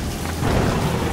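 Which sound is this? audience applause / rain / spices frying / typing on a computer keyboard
rain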